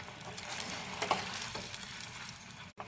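Herbal hair-oil ingredients fry gently in oil over a low flame, giving a steady, soft close-up sizzle with faint stirring clicks throughout and a brief dip near the end.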